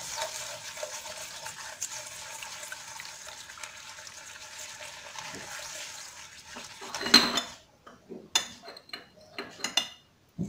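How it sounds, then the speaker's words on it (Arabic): Eggs and sugar are mixed together in a bowl for crisp, melt-in-the-mouth ghriba cookies, a soft steady scraping and whisking that gives way to scattered clinks and knocks of utensils against the bowl near the end. "نخلط هاد البيض والسنيدة مزيان"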